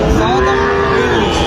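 At a rural cattle market near a border, a single cow lets out one loud, close, drawn-out moo that lasts the whole moment, with faint crowd murmur behind it.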